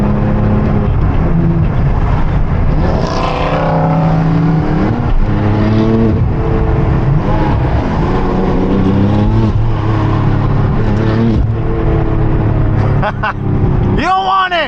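Porsche 911 Turbo engine revving and pulling hard, loud and close with rising and falling pitch sweeps throughout, voices talking over the engine noise.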